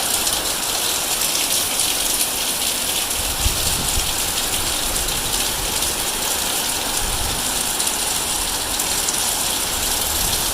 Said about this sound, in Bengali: বৃষ্টি দেখো মুসল ধারে নামছে বৃষ্টি